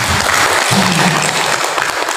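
Teachers and staff at a school dissemination session on positive culture break into loud, dense applause, a close and steady roar of many hands with faint voices mixed underneath.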